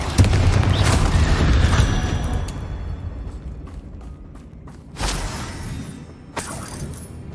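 A Bombarda blast spell from the Hogwarts Legacy video game, a loud booming burst at the start that rumbles and decays over a few seconds, followed by two sharper, shorter impacts later on.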